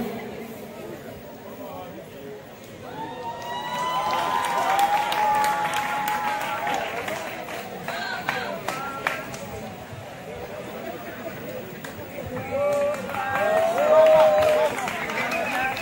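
Audience at a live comedy show applauding in swelling waves, crowd clapping and chatter rising and falling, with a speaker's voice and scattered shouts mixed in over roughly sixteen seconds.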